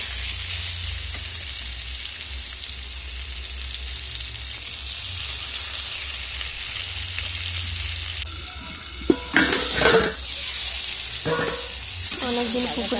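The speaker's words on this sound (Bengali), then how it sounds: "এবারে পটল আলুগুলো ভেজে নেব।" Pointed gourd and potato pieces fry in a pan with a steady sizzle, then stirring and scraping clatter in bursts toward the end, close and fairly loud.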